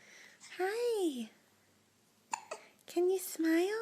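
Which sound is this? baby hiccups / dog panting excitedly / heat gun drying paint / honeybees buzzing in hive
baby hiccups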